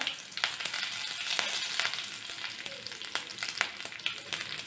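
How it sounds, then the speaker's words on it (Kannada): Tempering of mustard seeds, a dry red chili and curry leaves in hot oil, with a steady close sizzle broken by sharp crackling pops spread through the clip. "ಇದಕ್ಕೊಂದು ಒಗ್ಗರಣೆ ಕೊಡೋಣ. ಒಗ್ಗರಣೆಗೆ ಸ್ವಲ್ಪ ಎಣ್ಣೆ, ಸ್ವಲ್ಪ ಸಾಸಿವೆ,"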